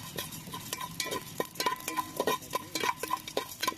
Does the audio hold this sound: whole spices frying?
yes